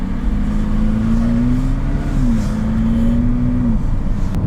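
A McLaren 570GT pulling away from a stop, its engine holding a loud, steady drone inside the cabin that rises slightly in pitch, then drops and levels off as the car moves.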